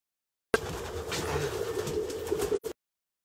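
Racing pigeons coo steadily at close range in a loft, a low throaty murmur running for about two seconds and then cutting off.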